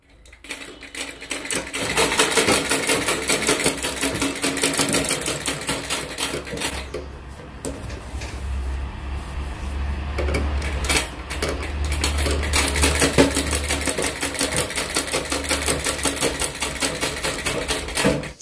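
Sewing machine stitching black piping onto a churidar made from an old maxi dress, a rapid close mechanical clatter in long continuous runs with brief pauses and speed changes.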